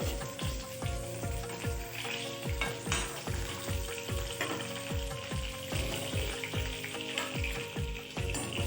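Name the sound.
frying katla fish pieces in oil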